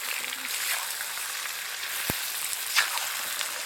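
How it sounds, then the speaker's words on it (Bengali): Washed chicken pieces frying in hot oil for kadai chicken, giving a steady soft sizzle throughout, with a brief clink partway through and no one talking. "এখন এই ধুয়ে রাখা চিকেনটা তেলের মধ্যে দিয়ে দেব।"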